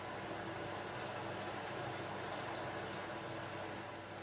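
Sauce simmering gently in a pan, a steady soft bubbling hiss held at an even low level throughout, close up and with no talking.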